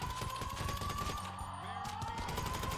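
Rapid gunfire rattles through a GTA Online firefight, a dense, continuous fusillade of quick shots filling the whole stretch over a steady engine-like drone, loud and close with no pauses.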